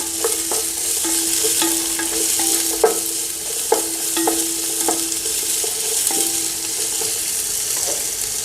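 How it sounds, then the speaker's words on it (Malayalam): Capsicum stir-fries in a pan for chicken fried rice, a loud steady sizzle broken by repeated sharp clinks and scrapes of a utensil against the pan, with no voices. "അതിനുശേഷം നമുക്ക് ക്യാപ്സിക്കം അതൊന്ന് ചെറുതായിട്ടൊന്ന് വാടട്ടെ"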